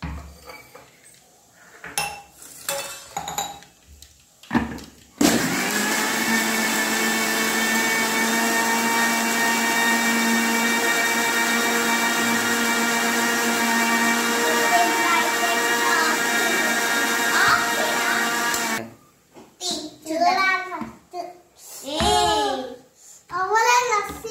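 An electric mixer grinder runs in one loud, steady whirring burst lasting around fourteen seconds. Before and after, there are clinks of utensils and people talking nearby.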